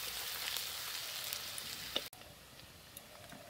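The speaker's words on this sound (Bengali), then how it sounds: "রসুন বাটা, রসুন আর পেঁয়াজটা হালকা করে ভেজে নেব।" Garlic paste, garlic and onion fry lightly in a pan, a quiet, steady sizzle with a single sharp click near the middle and no voices.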